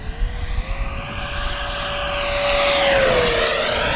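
A Banana Hobby Aerofoam Diamond RC jet with a 105mm 12s electric ducted fan makes a pass down a runway, its steady high fan whine growing louder as it approaches and then shifting pitch as it goes by, without talk.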